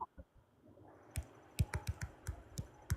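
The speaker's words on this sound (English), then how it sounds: "I hear you typing." Typing on a computer keyboard over a voice call, a quick irregular run of sharp key clicks starting faintly and growing clearer, picked up by a nearby microphone.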